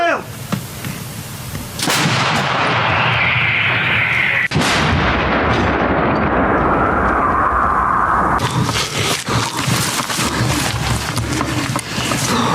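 A tank cannon fires during the war in Ukraine: several very loud, booming blasts, each followed by a long rolling echo, with one shot near the start and others about two, four and eight seconds in.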